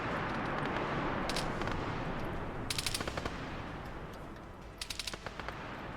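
Bursts of automatic gunfire aimed at a zombie in DayZ, with three separate rattling volleys of rapid shots sounding at moderate distance over a steady background rumble.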